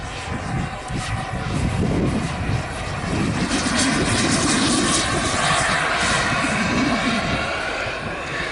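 A model aircraft flies at an outdoor model air show, its engine giving a continuous loud droning roar that swells and shifts as it passes, with faint crowd background.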